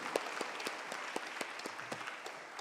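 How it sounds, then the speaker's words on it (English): Steady applause from a seated conference audience closing a panel session, continuous even clapping from many hands with no voices. "give the panel 3 rounds of applause"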